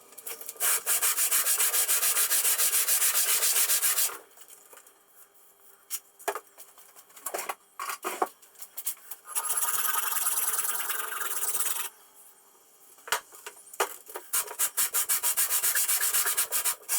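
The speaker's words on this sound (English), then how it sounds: "I will clean it up a little bit with sandpaper" Sandpaper rubs back and forth across a metal brake shoe, loud rasping bursts of scraping in several long runs separated by brief quiet pauses and small knocks, close up with no talking.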